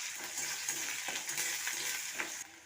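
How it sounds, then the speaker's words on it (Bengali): Chopped onion frying in hot oil with mustard-seed five-spice, dried chilli and bay leaf, a steady close sizzle with light stirring scrapes running throughout. "এবার দিয়ে দেবো কুচনো পেঁয়াজ।"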